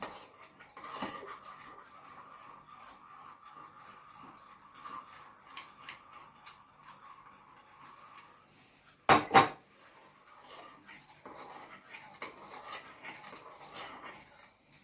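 A spoon stirs apple semolina mousse mixture with milk in a bowl, making faint, steady scraping and light clinks. Two loud, sharp metallic knocks come close together near the middle.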